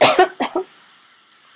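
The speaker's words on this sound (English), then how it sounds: "I'm sorry for coughing." One person gives a few harsh, close coughs in a quick cluster, then quiet with faint room noise.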